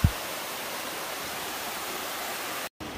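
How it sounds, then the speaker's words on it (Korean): A waterfall in Jujeon valley on Seoraksan mountain, heard as a steady, dense rush of falling water that fills the whole clip at an even loudness, with a brief dropout near the end and no voices. "야, 폭포도 멋있다."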